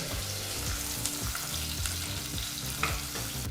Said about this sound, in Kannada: ಈರುಳ್ಳಿನ ಎರಡು ನಿಮಿಷಗಳ ಕಾಲ ಮೀಡಿಯಂ ಫ್ಲೇಮ್ನಲ್ಲೇ ಫ್ರೈ ಮಾಡ್ಕೋಬೇಕಾಗತ್ತೆ